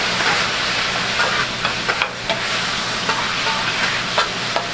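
Chopped cheesesteak meat sizzles loudly on a hot griddle while being mixed, a dense steady hiss with occasional scraping clicks from the spatula, close and continuous.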